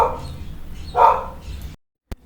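A small female dog gives two short, close barks about a second apart, followed by near silence and a faint click.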